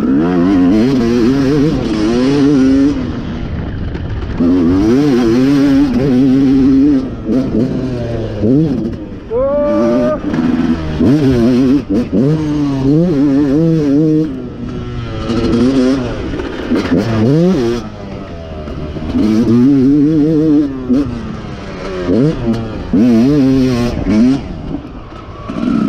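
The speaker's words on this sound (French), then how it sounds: "c'est un truc de dingue cette moto avec le châssis en acier" An old Yamaha YZ motorcycle with a steel frame revs hard as it is ridden, its engine note rising and falling in loud, continuous surges close by, with excited voices shouting over it.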